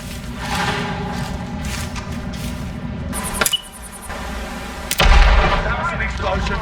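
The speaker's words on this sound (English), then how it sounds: "That was an explosion." An explosion in the Hitman video game: a sharp, loud blast followed a moment later by a second heavy boom with a deep low rumble, set against a steady droning in-game ambience with no talking.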